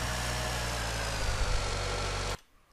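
A simulated light tank's engine running steadily in a prototype tank-steering setup, a constant droning idle that carries on evenly until it cuts off abruptly near the end.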